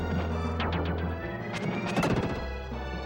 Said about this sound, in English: When Will lands a hit, that's from ActRaiser.